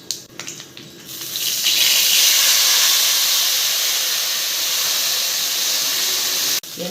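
Dissolved tamarind water hits a hot pan for Tamil tamarind rice, opening with a splash and then a loud, steady sizzling hiss that holds for several seconds before cutting off.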